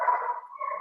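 One short dog vocalisation, a faint, brief bark or yelp heard alone and from some distance.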